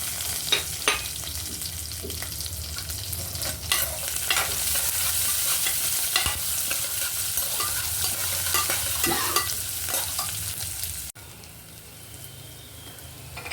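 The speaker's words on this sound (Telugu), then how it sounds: "వెల్లుల్లి బాగా ఫ్రై అయ్యాయి కదా." Garlic and cashews fry with mustard seeds, cumin and dried and green chillies in a pan, a steady close sizzle with scattered crackles and stirring scrapes. Near the end it drops to a quieter hiss.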